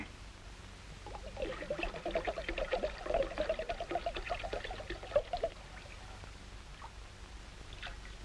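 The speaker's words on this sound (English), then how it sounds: "pour it in the bowl, William" Grape juice pours steadily into a bowl for several seconds, a close, bubbling gush of liquid that then tapers off into quieter room tone.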